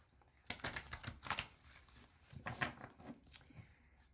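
Tarot cards are pulled from a deck and handled close by, producing quick papery slaps and riffles in two clustered bursts, soft overall with short quiet gaps and no talk.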